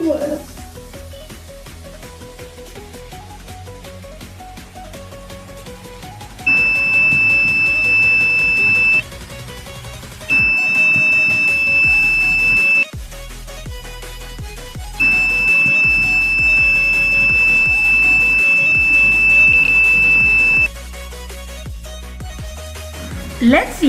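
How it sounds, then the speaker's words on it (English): A homemade Arduino social-distance warning alarm built from an ultrasonic sensor and a buzzer sounds a steady high-pitched electronic tone in three sustained bursts of several seconds each, the tones ringing over music playing throughout. "which is a social distance warning alarm"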